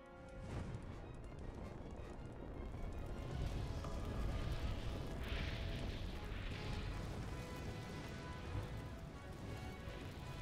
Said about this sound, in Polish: Jak wam się podoba mój deszcz ognia?